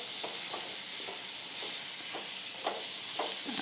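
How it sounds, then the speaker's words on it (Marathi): Whole masoor (lentil) curry with tomato frying over a low flame, a steady soft sizzle and hiss with repeated scraping stirs at a regular pace, close and alone without talk. "याला दोन ते तीन मिनिट कमी गॅसवर असंच तळू द्यायचं आहे व्यवस्थित मिक्स करत करत"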